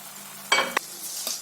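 Fried prawns drop into cooking masala in a pan for prawn biryani, giving two quick close bursts of sizzle and stirring followed by a softer scrape and a faint lingering hiss.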